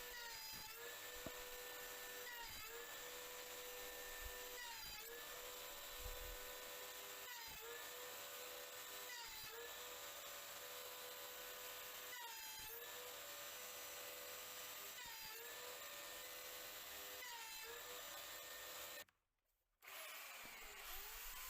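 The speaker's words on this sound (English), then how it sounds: "we are just sanding down the inside of the pot" A power sander whirs steadily against the inside of a wooden flower pot in repeated passes, roughly every two to three seconds, cutting out briefly near the end before starting again.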